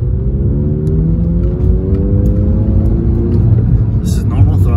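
A car pulls away from a red light at normal throttle with an air intake mod fitted, its engine rising in a steady droning rumble with gradually climbing pitch, loud and close as if heard from inside the cabin.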